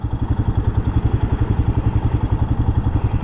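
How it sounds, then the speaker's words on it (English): A Royal Enfield Himalayan motorcycle cruising on the interstate, its engine giving a steady, rapid thumping pulse that stays close and loud throughout, with no one talking. "Himalayan is quite comfortable to ride on the interstate"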